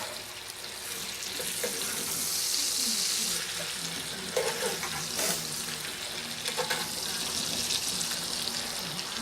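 Chicken thighs brown skin-side in a pan, giving a soft, steady sizzle with faint kitchen clatter and low background voices.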